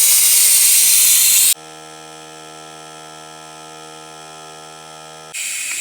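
A vacuum pump bleeding motorcycle brake fluid gives a steady mechanical drone, with a loud, broad hissing burst at the start and another at the end around the hum.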